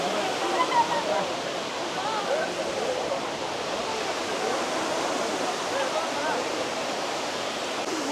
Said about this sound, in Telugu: ఇంకా దగ్గర నుంచి చూడాలంటే ఇది వాటర్ ఫాల్స్